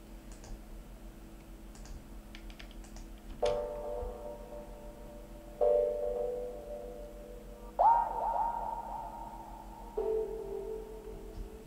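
A spiky sound effect called 'Adrift' is played during a mix walkthrough: four sharp, bright tonal hits about two seconds apart, each ringing and decaying over a quiet, low hum with faint ticking before the first hit.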